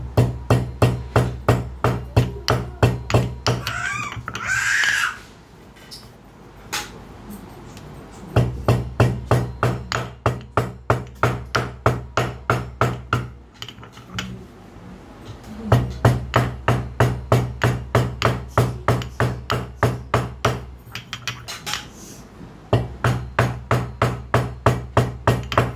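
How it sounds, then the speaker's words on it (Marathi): Peeled cardamom pounded with a pestle for sweet potato kheer, a loud, close, steady rhythm of heavy thuds repeating in long runs broken by short pauses. "आता यामध्ये वेलची सोलून ती वेलची कुटून घ्यायची आहे"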